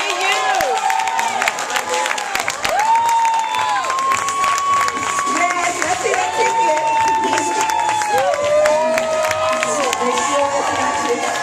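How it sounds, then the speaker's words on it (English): A large crowd cheers, shouts and applauds loudly and continuously for a prize winner at a live drawing event, with an announcer's amplified voice speaking over the noise. "y'all get up and cheer for him"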